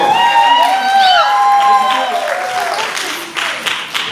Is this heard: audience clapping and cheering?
yes